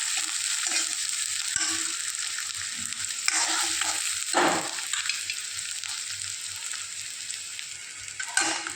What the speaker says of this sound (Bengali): প্রথমে দিয়ে দেবো সর্ষে, তারপরে পেঁয়াজ, কাঁচা লঙ্কা